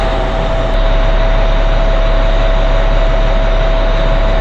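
A truck engine is running, a loud, steady drone with a constant whine throughout, close by and unbroken, with no speech.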